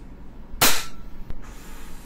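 Single sharp pop of a WE Trex Hicapa gas blowback airsoft pistol firing during a chronograph FPS test, one loud close burst followed by a fainter mechanical click, with no talking.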